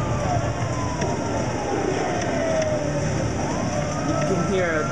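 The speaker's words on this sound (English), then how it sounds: "you can hear like sirens and a police car" Police car sirens wailing in a chaotic scene, rising and falling tones sweeping over a dense rumble of traffic-like noise, with an indistinct voice faintly underneath.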